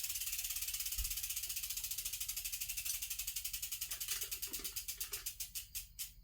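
A bicycle's new chainring, set slightly too tight, ticks once per turn as it spins. The steady close ratcheting clicks start fast and even, then gradually spread apart as the crank slows, with no voices.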